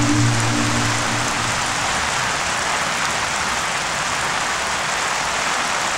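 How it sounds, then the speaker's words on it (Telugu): Heavy rain pours in a dense, even hiss that stays loud and unbroken from start to finish, with a low rumble fading early on and no voices. "వర్షం ఇంత పెద్దగా పడుతుంది."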